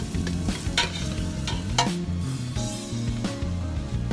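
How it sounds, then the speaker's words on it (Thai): Garlic fries in a pan for Thai khanom jeen nam ngiao, a steady close sizzle broken by scraping stirs and occasional utensil knocks, with no talk. "เจียวกระเทียมให้หอมก่อนนะครับ"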